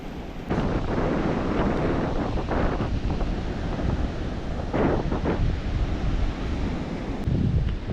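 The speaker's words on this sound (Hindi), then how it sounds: "हाई टाइड हो रहा है। अभी पानी देखो इधर तक आ रहा है, अभी बहुत नज़दीक आया।" Sea waves at high tide roll onto a quiet beach in South Goa, a continuous roar of surf with wind buffeting the microphone, steady and close with no voices.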